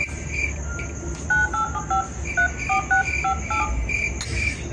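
A telephone number dialed on a keypad, a quick run of about a dozen short tone beeps in uneven rhythm, heard close over a steady background of chirping crickets.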